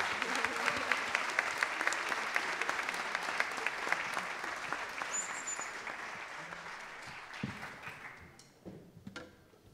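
An audience at a municipal orchestra concert gives sustained applause, dense clapping that thins and fades toward the end, leaving a few scattered claps.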